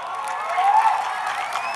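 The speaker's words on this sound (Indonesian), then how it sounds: "Tepuk tangan yang meriah." Lively applause and cheering from an audience at a prize-giving event, a continuous wash of clapping mixed with raised voices and whistles, lasting under two seconds.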